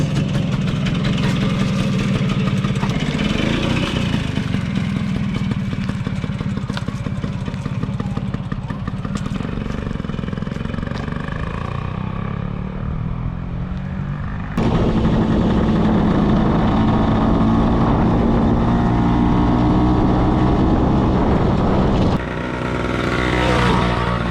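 A 1979 Vespa P125 scooter engine runs steadily through a test ride, a buzzy two-stroke drone that holds at a moderately loud level, shifts in tone partway through as the revs change, and then fades slightly near the end.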